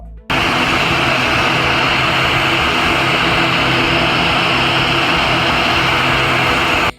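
A passenger aircraft arriving at Pithoragarh airport on the new Pithoragarh–Delhi service gives a loud, continuous engine roar that starts abruptly and holds steady throughout.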